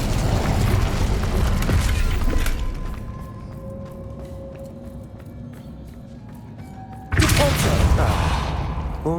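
A fire spell cast in the Hogwarts Legacy video game, a sudden loud whooshing burst that comes in around the seven-second mark after a quieter stretch, with a rumbling, crackling tail.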